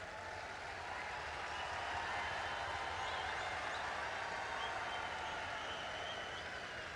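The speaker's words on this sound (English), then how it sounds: "Wonderful reception that they're getting as well from the crowd here at Bhubaneswar" A crowd at a men's hockey match in Bhubaneswar applauds in a steady, distant wash of clapping that holds throughout, with faint commentary underneath.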